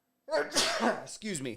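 A person sneezes twice in quick succession, loud and close, with a short gap between; spoken words follow right after the sneezes.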